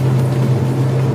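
Engine of a 1997 Toyota Kijang LGX under a power test in fifth gear at low speed, a loud steady low drone holding constant pitch with no talk over it.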